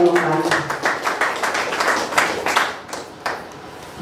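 A crowd claps together in steady, dense applause lasting several seconds, fading slightly toward the end.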